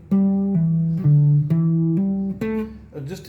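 An electric guitar plays quick pinky pull-offs in a pentatonic position, ringing notes stepping downward in short pairs, close and clear with no talking.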